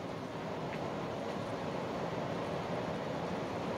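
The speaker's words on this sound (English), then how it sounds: "it's pouring down rain" Heavy rain pours down outside during an indoor crafting session, a steady, even hiss of moderate loudness that runs unbroken throughout with no talking.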